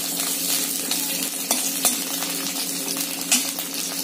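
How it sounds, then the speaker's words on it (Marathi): Green chillies and garlic cloves roast in a hot pan with a dense, continuous sizzle, broken by occasional light metallic clinks of a spatula against the pan. "आपण हे मिरच्या चांगले भाजून घेणार आहोत, त्याचबरोबर आता याच्यात आपण लसणाचा पाकळ टाकू"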